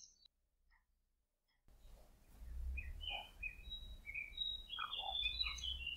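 Birds sing outdoors at Roquefort-les-Pins, scattered chirps and short whistled phrases following a near-silent start, growing busier toward the end over a faint low rumble.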